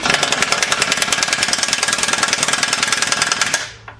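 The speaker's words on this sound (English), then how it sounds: "I'm just going to use my air gun real quick." A pneumatic air gun rattles in a rapid, loud burst of impacts while loosening the crank housing on a Bakcou bike, then cuts off abruptly just before the end.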